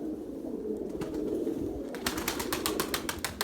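Pigeons coo softly in the background, then a rapid series of wing flaps rings out as a flock of pigeons takes off together nearby.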